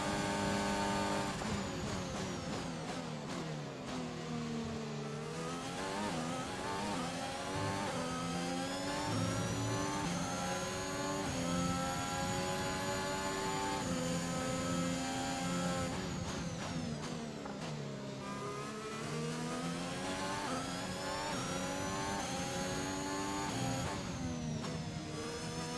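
A Formula 1 car's engine screams continuously around the Bahrain circuit in F1 2021, pitch rising through the gears and dropping sharply on downshifts, repeating in steady cycles with no speech.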